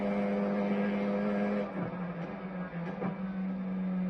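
Formula 4 race car at reduced power, engine holding a steady tone that dips and shifts as it downshifts partway through, with no talking.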